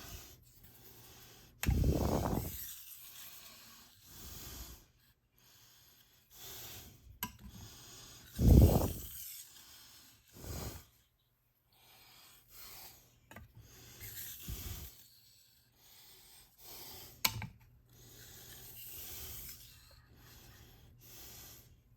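A blade rasps across a Shapton Kuromaku 1500-grit whetstone in separate, slow strokes, with quiet gaps between them and a few louder scrapes.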